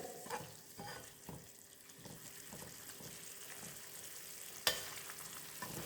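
Boiled potatoes frying in a pan on a big burner, a steady low sizzle with intermittent stirring scrapes and one sharp clatter near the end, no talk.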